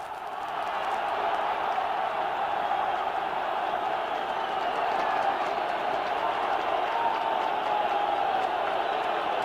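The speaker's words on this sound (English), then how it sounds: "Bulgarian crowd on its feet." Bulgarian football crowd at the 1987 Bulgaria versus Ireland match roaring and cheering, a dense, loud, unbroken wall of voices sustained throughout.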